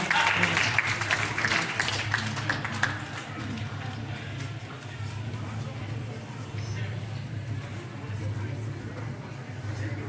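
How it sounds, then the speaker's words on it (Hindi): A crowd claps at an award ceremony for outstanding web journalism. The applause is strongest at the start, then fades into lighter scattered clapping over a low murmur of voices. "तालियां बजती रहना चाहिए, क्योंकि ज्यादा से तालियां बजा रहे हैं।"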